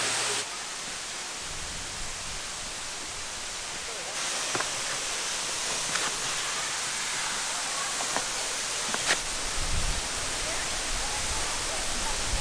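Waterfall at Fall Creek Falls State Park, Tennessee, roaring as a loud, steady broadband rush heard up close, with the noise rising a step partway through and a few faint knocks.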